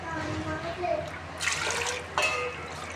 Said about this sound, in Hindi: इसलिए हम इसमें शामिल करेंगे 4 प्यालियाँ पानी के